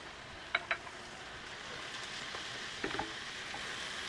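Spice powders are stirred into onion, chili, garlic and ginger frying in a pan for a Chinese takeaway curry sauce. A faint, steady sizzle runs throughout, broken by a few soft utensil taps, with no talking.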